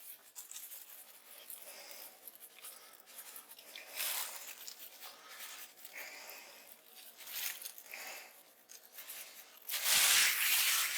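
Hands rub seasoning into a bone-in pork shoulder, a steady soft rubbing and patting that continues through the whole stretch and swells into a louder, rougher rub near the end, with no talking.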